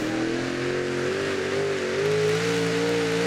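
A pulling tractor, the French and Furious with its engine mounted behind the cockpit, launches down the track at the Bernay Eurocup final, a loud continuous engine roar whose pitch climbs steadily as it pulls.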